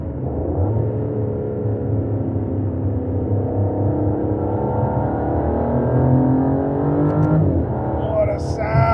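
An Aston Martin DBS engine revs and accelerates with a loud, steady rising roar heard from inside the car, building through the gears without pause.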